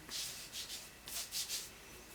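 Hair product being rubbed onto skin by hand, a faint, close, soft swishing friction in several short strokes with quiet pauses between them.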